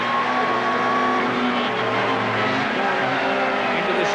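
A 1990 British Touring Car Championship race car accelerates hard down the straight, a loud, continuous engine roar rising through the gears, with other cars audible underneath.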